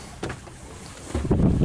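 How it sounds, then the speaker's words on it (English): Light wind of about 8 knots buffets the microphone aboard a solo-sailed yacht on the Spanish rias, with soft gusty rumbles and water-like rushes rising toward the end, close and low. "we have finally got a little tiny bit of wind"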